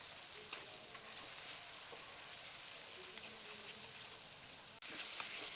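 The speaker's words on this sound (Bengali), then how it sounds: "মশলাটা কিছুক্ষণ ভালো করে নেড়ে চেড়ে নিয়েছি" Cumin, dry chili and ginger paste masala cooking in a pan, a faint steady sizzle with a few soft stirring scrapes and a brief clunk near the end.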